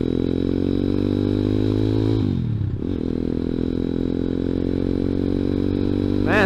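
A ZS190 Grom clone motorcycle rides a gravel road, its engine droning steadily and loud, dipping as the rider eases off for about half a second, then picking back up and revving at the end.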